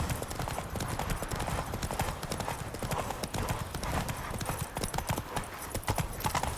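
Horse hooves pound at a steady, rapid gallop in the video game The Witcher 3, dense and continuous throughout, with an occasional whinny and background game sound.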